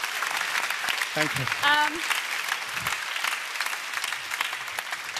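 A studio audience at a dance competition finale applauds steadily for the full stretch after a salsa improvisation dance, as a voice briefly says a word over the clapping.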